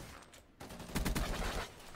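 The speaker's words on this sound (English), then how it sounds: "this is the infinite ammo LMG" A burst of rapid gunfire from an infinite-ammo light machine gun in Black Ops 3, a short dense rattle of shots lasting about a second, close and loud, with no voices.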